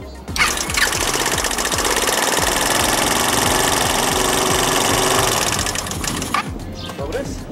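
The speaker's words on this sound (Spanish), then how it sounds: "Vamos a echarle a andar nada más para que vean que ya ahora sí ya arranca." An Italika 180 motorcycle engine fires up and runs with a loud, rapid mechanical chatter, steady and close, then cuts back near the end.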